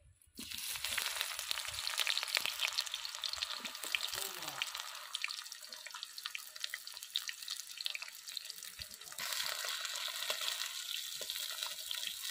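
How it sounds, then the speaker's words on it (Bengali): Chopped onions fry in a hot pan with oil while being stirred, giving a steady, close, loud sizzle and hiss throughout, with a few light scraping sounds and no talking. "পেঁয়াজটা নেড়ে চেড়ে ভালো করে ব্রাউন কালার করে নেব"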